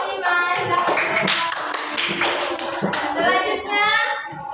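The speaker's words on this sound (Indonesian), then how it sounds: "Tepuk tangan untuk kelompok 5" A classroom of children claps hands for group 5, quick uneven clapping blended with lively children's voices, close and continuous for several seconds.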